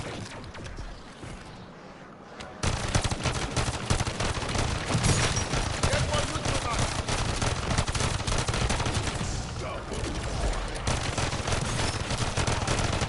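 Pistols in Call of Duty Modern Warfare 3 Zombies fire in rapid, dense bursts of gunfire that keep up almost continuously for about ten seconds after a quieter opening, loud and close, with no talking.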